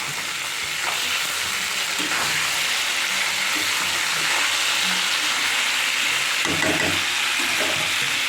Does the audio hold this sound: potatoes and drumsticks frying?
yes